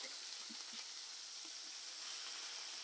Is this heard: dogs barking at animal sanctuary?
no